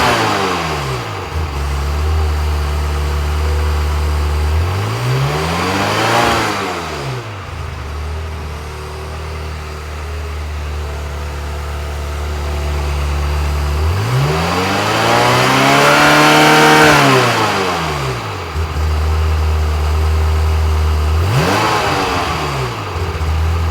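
A Ferrari F355 engine with individual throttle bodies idles steadily, then climbs into two smooth sustained revs and drops back each time during a throttle body synchronization, loud and close with no talking.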